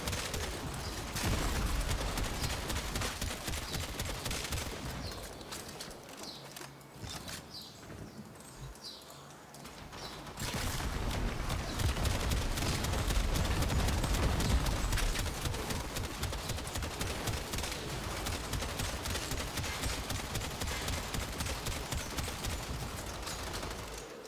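Cedo weapon in Warframe firing its primary and secondary modes together, a dense run of rapid shots and bursts with a lull near the middle, then heavier sustained fire with low booms.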